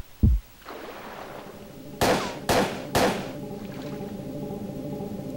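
An M4 rifle fires in Parasite Eve 2, one early thump followed by three sharp evenly spaced shots, each loud and close against a low steady game hum.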